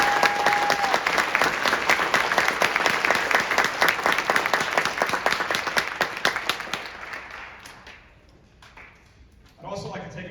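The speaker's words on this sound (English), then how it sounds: "These guys need a huge round of applause." A band concert audience at a holiday concert gives a huge round of applause, dense clapping that holds strong for several seconds, then thins out and fades to quiet before a voice starts talking.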